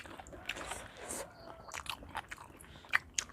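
Someone eats blanched squid at close range, with soft irregular bites, crunches and chewing noises that stay quiet against a faint outdoor background.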